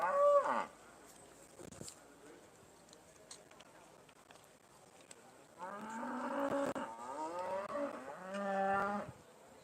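Young Beef Shorthorn heifers in a judging lineup at an agricultural livestock show give loud, drawn-out moos, one brief call at the start and then a longer series of bellows later, with faint background chatter between.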